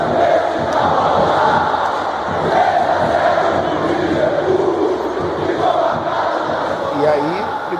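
Flamengo football supporters chant and roar together in a packed stadium, a dense, loud crowd sound that swells steadily and stays constant throughout.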